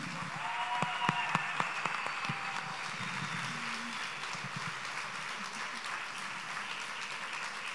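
An audience applauds a fado singer at a concert, a steady wash of clapping with a few sharper near claps early on and faint voices underneath, sustained evenly throughout.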